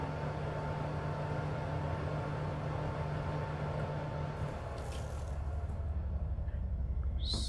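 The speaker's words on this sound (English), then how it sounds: "What's that noise? Is that the oven?" An oven in a video game house runs with a steady, droning hum that fills the whole stretch, shifting slightly in tone partway through, with a faint tap near the end.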